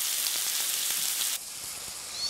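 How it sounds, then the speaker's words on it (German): Onions frying at full heat in a pan give a steady bright hiss and sizzle, close and even, which eases slightly partway through, with no talk. "die Zwiebeln auf Vollgas anbraten, 10 Minuten lang und immer mal mit Wasser ablöschen"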